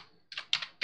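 A few quick keystrokes on a computer keyboard, three or four separate clicks close by in an otherwise quiet room.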